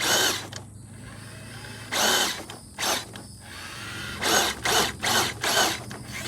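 Electric motor of an RC crawler driven by a 1080 ESC with a Crawlmaster Sport 10-turn motor, revving in sharp whining bursts of varying length, close and alone, with no voices.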